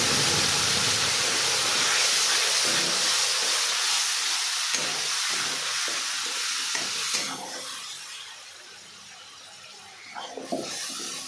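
A ground paste of ginger, garlic, onion and tomato with cardamom and cinnamon hits hot oil, setting off a loud, close sizzle that settles into a softer hiss. Light stirring clatter sounds near the end.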